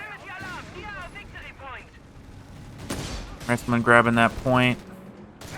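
Anti-tank guns firing in the Company of Heroes 3 real-time strategy game, a broadband gunfire burst around the three-second mark under ongoing caster commentary, with louder voiced speech and game sounds afterward.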